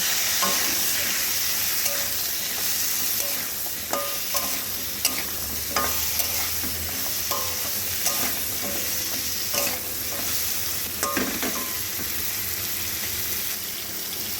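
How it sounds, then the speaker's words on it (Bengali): Pointed gourd (parwal) frying in oil in a wok with a little salt and turmeric, a soft steady sizzle broken by regular clinking stirs of a spatula against the pan, with no talk. "নুন আর হলুদ দিয়ে একটু গোল্ডেন করে পটলগুলোকে ভেজে নেব"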